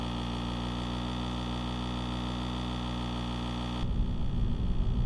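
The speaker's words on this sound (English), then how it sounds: "Do you guys want me to turn the engine noise down a little bit more?" A vehicle engine in the video game Farming Simulator 25 drones steadily at a constant pitch, then shifts to a rougher, rumbling tone near the end. The sound plays alone with no talk.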